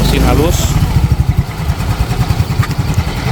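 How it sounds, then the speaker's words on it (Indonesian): Used motorcycle bought at auction, its engine running during an inspection, a close, loud, rapid thumping putter that holds steady throughout while someone speaks over it. "mesin halus nih lagi dicek, coba kita lihat."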